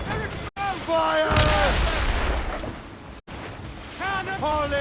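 Naval cannon fire in a sailing-ship battle video game, booming broadsides rumbling under shouted orders and voices, with brief gaps between bursts.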